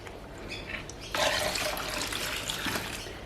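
Water runs and splashes as soap residue is rinsed off soap-making utensils, starting soft then surging into a steady, close rush from about a second in.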